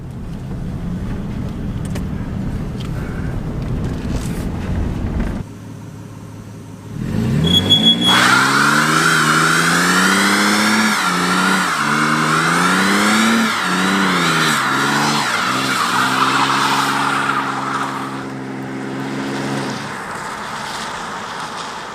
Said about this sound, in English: I'm gonna do one more burnout though, just because it's fun.